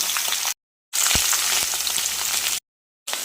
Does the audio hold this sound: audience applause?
no